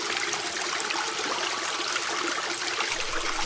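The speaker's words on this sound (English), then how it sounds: "Whoa, the water is making some flowing sounds in the river." Noisy river water flowing steadily, a dense, loud hiss of rushing current heard close up and unbroken, with no voices.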